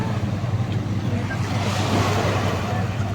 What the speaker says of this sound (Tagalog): Oh, malakas ng alon.